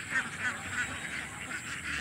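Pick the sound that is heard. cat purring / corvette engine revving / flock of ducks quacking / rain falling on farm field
flock of ducks quacking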